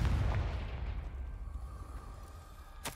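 Confringo fire spell blast in the Hogwarts Legacy video game, a deep booming explosion with a rumbling low-end tail that fades out, followed by a sharp crack near the end.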